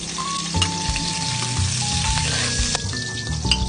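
Garlic frying in oil in a pan, giving a steady close sizzle with a constant crackling hiss and a few brief clinks, with no talking.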